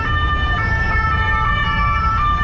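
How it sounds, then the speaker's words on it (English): Police car sirens wail steadily on a Paris street as a line of police vehicles moves in, loud and continuous over a low rumble of engines and traffic. "Another whole line of police cars is moving in."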